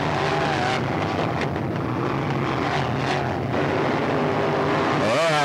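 Race cars roaring past on the front stretch at Hickory Speedway, a loud continuous engine drone with shifting pitch and a rising whine of a car passing close near the end; commentary talk runs faintly beneath.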